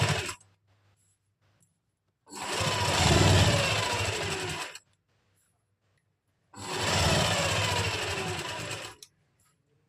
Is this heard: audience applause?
no